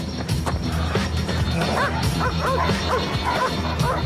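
Police tracking dogs from a prison canine unit bark and yip repeatedly in a dense, overlapping chorus, close and loud, with whimpers mixed in over a steady outdoor rumble.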